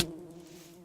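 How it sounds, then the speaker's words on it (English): A bee in a modded Minecraft world gives off a short, steady, close buzzing drone with a clear tonal hum, heard alone. "And look, it's a bee."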